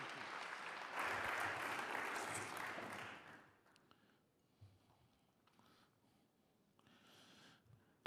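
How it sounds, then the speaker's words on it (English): Applause rises from the audience at a Worldchefs Congress medal and life achievement awards ceremony, swelling for about three seconds before quickly fading. Quiet room noise and a few soft isolated claps follow. "so big applause for that, and you really deserve it"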